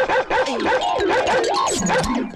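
A dog barks and yips in a quick excited run of calls inside a house, loud and close, with a slight whimpering tone between barks.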